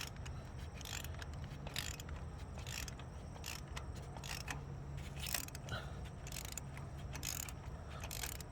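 Ratchet socket wrench clicking in steady bursts while loosening a spark plug on a 2015 Toyota Avalon hybrid, the rapid metallic ticks repeating close up over a low background hum.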